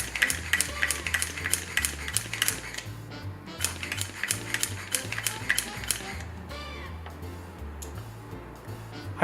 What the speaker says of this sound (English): Now I go to the vacuum. I see that there's currently 0. And I start vacuuming out air.